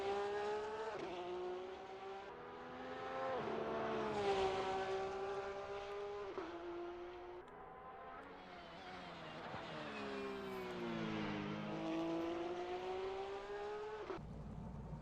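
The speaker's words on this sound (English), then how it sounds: "It's a nice sounding car. I will give the Porsches that." A Porsche GT3 race car engine in a racing simulator at Bathurst roars continuously, rising and falling in pitch through gear changes and revs, sounding steady and sustained like in-game engine audio.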